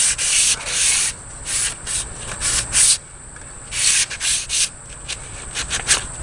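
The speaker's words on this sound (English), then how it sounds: "just wipe it off with a dry rag, get sawdust off of it." Rapid back-and-forth rubbing of a dry rag over a freshly finished wooden ditch axe handle to clear off sawdust, a loud close scuffing in uneven bursts with brief pauses.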